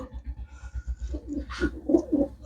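Pigeons from a pure bloodline coo close by, a steady run of low pulsing coos that swells into a louder burst of cooing near the end, with no voices.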